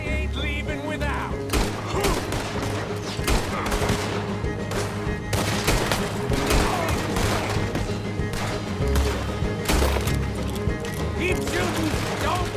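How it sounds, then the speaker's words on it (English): Dense, continuous gunfire in the Western game Red Dead Redemption 2, loud close shots and rapid volleys layered over one another, with voices shouting amid the shooting. "Keep shooting!"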